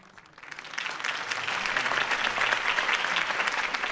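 Crowd applause in Batman The Telltale Series, swelling in over the first half-second into a dense, steady wash of clapping that holds at a moderate level throughout.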